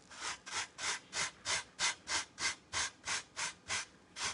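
The back of a kitchen sponge is rubbed along wooden edges to smooth them for a Mother's Day craft, making about thirteen soft, evenly spaced scrubbing strokes close by.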